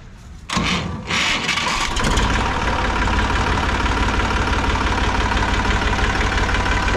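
A vintage Kirloskar tractor engine cranks and catches, then settles into a loud, steady diesel idle with a continuous low knocking throb, close by and alone.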